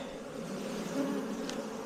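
A dense, steady hum of 10,000 to 20,000 honeybees buzzing together inside an open hive, close and continuous, with no voices.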